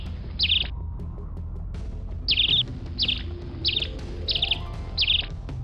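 A pet bird in China in 1988 gives six bright, high chirps in short bursts, the first alone and the rest in a fairly regular run, over a steady low background rumble.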